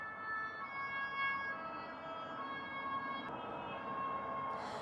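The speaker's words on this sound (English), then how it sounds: "that is like the 5th siren that I've heard since I got to my Airbnb" A wailing emergency siren in Thailand holds steady tones that rise and fall, fairly distant over a constant city hum, with no talking.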